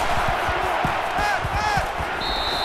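Loud stadium crowd roar in an NCAA Football video game, Miami Hurricanes vs LSU Tigers, a steady dense wall of noise with scattered thumps and whistle-like tones, no talk over it.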